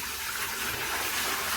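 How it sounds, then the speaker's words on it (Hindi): Water poured out of a vessel during homemade butter making in a home kitchen, a steady, close, continuous splashing gush with no talk over it. "और ये देखिए अब इस पानी को मैं गिरा देती हूँ।"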